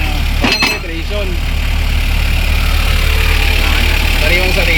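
A Mitsubishi L300 engine idles with a loud, steady, low drone throughout, a brief clatter near the start, and someone talking over it.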